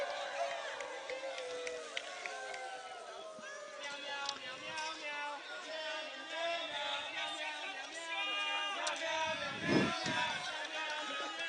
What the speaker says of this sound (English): The crowd is having a lot of fun right now, getting inventive with their cheers.